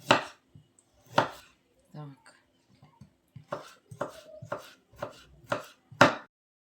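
A knife chops radish into thin strips on a cutting board in a series of sharp, close taps, irregular at first and then quicker and evenly spaced.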